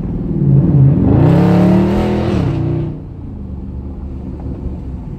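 A powerful 392 V8 engine in a Dodge Charger or Challenger Scat Pack revs hard, climbing to a loud roar for about two seconds before dropping back to a deep, rumbling idle.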